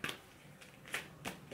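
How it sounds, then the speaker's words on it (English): Tarot cards are shuffled in three quick riffling bursts, close and soft, with short pauses between them and no voices. "I want to shuffle a card and just see what I get for JFK"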